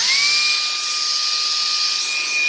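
A small handheld vacuum cleaner runs steadily, its suction giving a loud close hiss with a high whine over it for a couple of seconds, and no talk.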